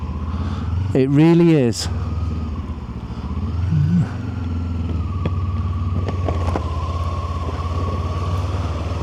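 A Kawasaki Ninja 7 HEV hybrid motorcycle rumbles low and steady while being ridden, with a brief rising rev near the start, and someone speaks over the engine.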